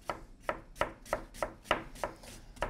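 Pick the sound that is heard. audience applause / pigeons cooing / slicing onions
slicing onions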